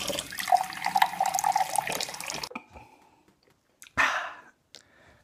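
Running water from a shower pours steadily for a couple of seconds and then cuts off, followed by a couple of faint splashes and a final short burst of spray, with no talking.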